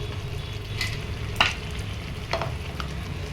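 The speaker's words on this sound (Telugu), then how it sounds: "చింతపండు కూడా వేసుకొని మంచిగా ఫ్రై చేసుకోవాలి" Tomato pickle mixture with tamarind fries in a pan, a steady close sizzle with occasional spatula scrapes and a sharp clack near the middle, no voices.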